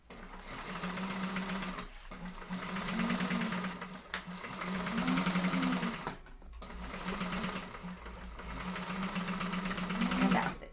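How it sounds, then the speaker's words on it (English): A sewing machine sews a half-inch seam on vinyl with a steady, close, continuous whir that briefly dips and then resumes in long runs, with no clear voices. "sew all the way down the rest of the way with a 1/2 inch"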